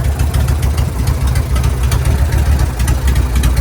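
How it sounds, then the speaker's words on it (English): A Harley-Davidson Sportster chopper motorcycle engine idles nearby with a loud, steady, lumpy low rumble and rhythmic pulsing exhaust beats, heard alone throughout. "We're just gonna do a quick first ride up and down the street, and we'll see how the bike feels."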